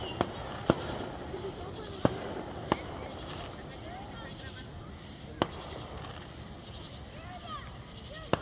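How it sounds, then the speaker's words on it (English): Distant Fourth of July fireworks in Gatlinburg, Tennessee, with sharp pops and bangs scattered at irregular intervals over a steady outdoor background of crowd murmur and ambient noise. "Looks like we're getting a start on the fireworks."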